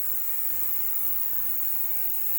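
An ultrasonic cleaner runs as a steady, continuous hum with a bright high-pitched whine above it, unchanging and unbroken throughout, with no voices.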